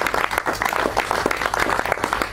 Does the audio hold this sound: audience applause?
yes